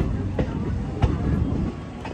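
A local train runs on the line to Haridwar, a steady rumble with rhythmic clacks, heard up close and loud under the general din of the carriage.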